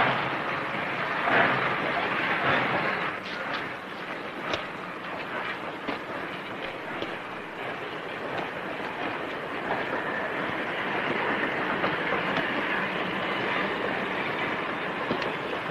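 A 1930s passenger train runs steadily on its rails, a loud continuous rumble and rattle of wheels and carriages with faint clanks, filling the whole stretch with no speech.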